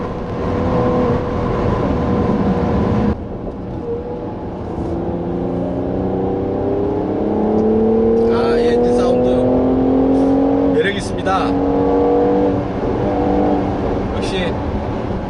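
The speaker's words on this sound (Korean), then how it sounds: "이 치고 나갈 때 배기음에서 빠져나가는 이 엔진 사운드, 배기 사운드가 특히 매력적인데요" A Mercedes-AMG GLC 4MATIC engine and exhaust, 367 hp, pull hard under acceleration, a rising drone climbing steadily in pitch through successive gears and heard close and loud, with a short burst of other noise partway through.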